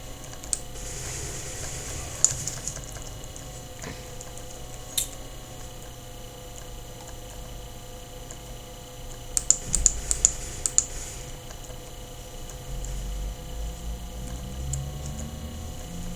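Computer keyboard keys clacking in scattered bursts during a Counter-Strike: Global Offensive session, faint and close, with a steady background hum and no talking.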